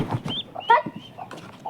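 A chicken clucks in a few short, close calls among quick nasal cackles, with some faint background noise around it.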